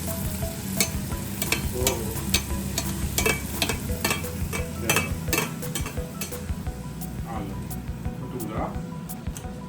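Bhature dough frying in hot oil for chole bhature, a steady loud sizzle with sharp clinks of a metal utensil against the pan, while a person talks throughout.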